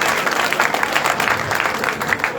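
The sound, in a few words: crowd applause for a politician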